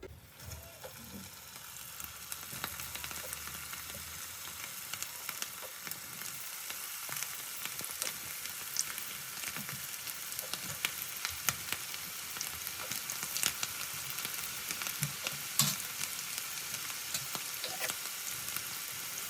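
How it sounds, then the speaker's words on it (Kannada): Twisted samosa-dough snacks deep-fry in hot oil with a loud, dense, crackling sizzle that pops and fizzes continuously throughout, with no one speaking. "ಇದನ್ನು ಇವಾಗ ಎಣ್ಣೆಯಲ್ಲಿ ಕರಿಬೇಕು"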